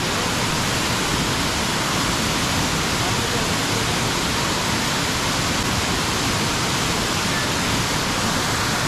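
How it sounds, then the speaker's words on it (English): Ravana Waterfall in Sri Lanka roars as a steady, dense wash of falling water, loud and unbroken throughout with no gaps. "this waterfall is known as Ravana Waterfall"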